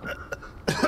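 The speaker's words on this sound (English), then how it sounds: "so I keep coughing" A man congested from a cold gives a few short, rough coughs, close up, in bursts separated by brief pauses.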